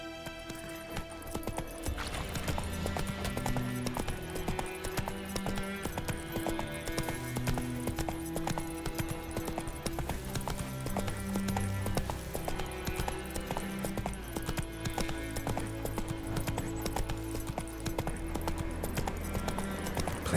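Steady horse hooves clip-clop through a Witcher 3 video game scene, with a sustained musical score heard alongside and an occasional whinny, continuous and fairly loud for the whole stretch.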